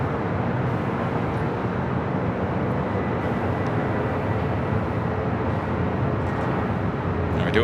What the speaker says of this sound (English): We do have a heavy taking off on the south side. Singapore Airlines, flight 11, heading back to Tokyo Narita, 777-300ER.